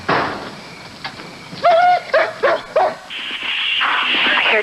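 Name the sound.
police dog barking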